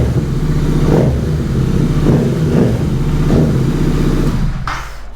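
Continental GT 650 motorcycle fitted with a Gursewak aftermarket exhaust, revving in repeated throttle blips over a loud, steady idle, close to the microphone, with no talking.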